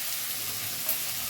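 Spices and turmeric frying in a pan give a steady, even sizzling hiss, close and fairly quiet, with no voices over it.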